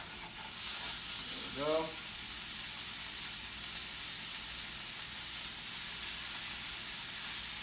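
Sliders sizzle in an oiled cast iron pan, a steady moderate hiss that runs throughout, with a brief voice early on.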